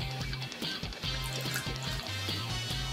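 Chocolate candy-style soda pouring into a glass, a steady liquid trickle with faint splashing and fizz, close and fairly quiet, alone throughout.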